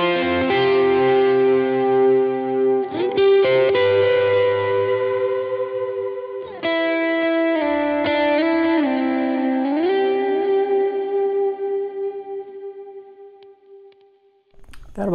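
An electric guitar played through a worship pedalboard with an extra overdrive drive effect rings out in sustained, distorted chords with some echo, the strums changing a few times before the last chord slowly decays.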